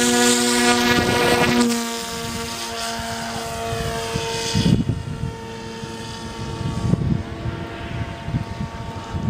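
Propeller-driven RC model airplane flying overhead and climbing, its engine droning with a strong whining tone that shifts as it passes, loud at first and then fading somewhat.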